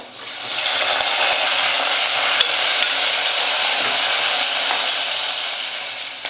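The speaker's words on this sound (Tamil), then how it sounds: "ஒரு பெரிய வெங்காயம் எடுத்து சின்ன சின்னதாக கட் பண்ணிக்கிட்டேன், அந்த வெங்காயம் சேர்த்துக்கிறேன்" Chopped onion with garlic and curry leaves sizzling in a pan, a loud, steady frying hiss that swells in quickly and holds evenly for several seconds, with light stirring scrapes and no voices.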